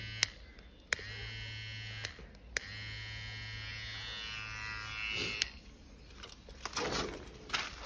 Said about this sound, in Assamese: এইটো এটা ব্ৰেণ্ড নিউ হেয়াৰ ট্ৰিমাৰ হয়